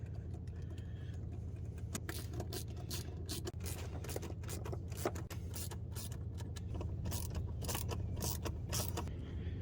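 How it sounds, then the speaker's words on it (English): Small coupler hose clamps being tightened on a Crown Victoria cold air intake: steady close ratcheting clicks and metallic scraping over a constant low hum. "we just got to tighten down these little coupler clamps"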